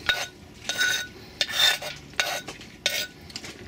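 A spoon clinks and scrapes through papaya salad on a plate, in several short bursts of stirring and tapping, close and fairly loud, with no voices.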